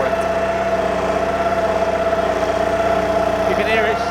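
A BCS 630 WS flail mower's engine runs hard under load with a continuous loud droning hum and steady vibration, close by throughout.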